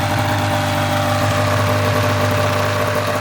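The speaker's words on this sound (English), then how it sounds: "That allows it to come back and idle on a high RPM." An engine idling at a high RPM, a steady, loud, continuous drone with no change in pitch.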